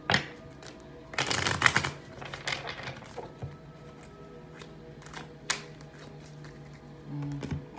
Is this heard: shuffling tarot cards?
yes